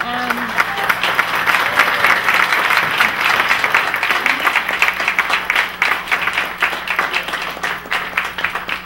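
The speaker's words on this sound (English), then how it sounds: "Please, a huge round of applause for our panelists." A loud round of applause for panelists from a live audience, dense clapping that swells early, then thins into more distinct individual claps as it winds down, with a voice briefly audible at the start.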